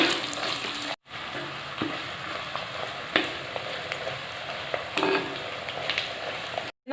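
Green chillies, curry leaves, ginger and garlic sizzle steadily in hot oil for a gooseberry pickle, a close, even frying crackle with occasional soft stirring scrapes.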